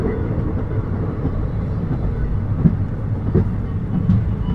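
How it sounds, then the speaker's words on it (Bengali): The Howrah-Mokama Express rolls into Durgapur station at night with a continuous heavy rumble and a few faint wheel clacks on the rails, heard from on board with no voices. "তো বন্ধুরা ঢুকছি দুর্গাপুর স্টেশনের তিন নম্বর প্ল্যাটফর্মে ট্রেন দিয়েছে"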